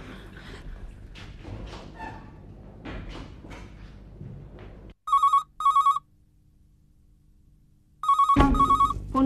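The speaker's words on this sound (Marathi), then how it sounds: "फोन नको घेऊ." A telephone ringtone chirps in short, loud electronic bursts, two quick rings followed after a pause by another louder ring, with people talking just before it starts.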